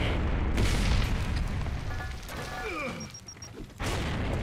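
A grenade blast in Gears of War: a loud, rumbling boom that fills the opening, decays under a few brief game tones and is followed by another heavy thump near the end.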